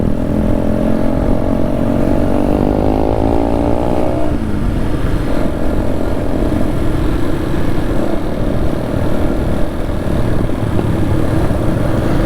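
A motorcycle engine runs steadily while someone rides it with friends on the way to a stunt outing, a rising whine in the first few seconds settling into a continuous drone under wind and road noise.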